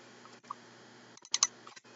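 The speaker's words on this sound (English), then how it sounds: "type in day of the week." Soft, sparse keystrokes on a computer keyboard while entering text into a spreadsheet: a few quiet clicks clustered near the end of a short, otherwise hushed stretch.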